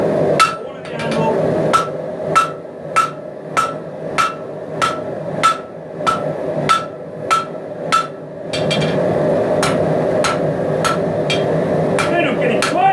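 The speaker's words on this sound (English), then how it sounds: "just start working on the tip of this blade. Working on the corner of the anvil." A hammer forges the tip of a 5160 steel round-bar blade on the corner of an anvil, striking about a dozen loud, evenly spaced ringing blows, with a short pause and a steady background hum.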